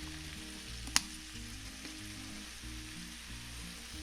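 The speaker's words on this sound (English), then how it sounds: "Then place your onions and 1 clove of minced garlic into the skillet." Sliced Vidalia onion and minced garlic sizzle faintly in a skillet, a soft steady frying hiss with one brief clink, under low background music.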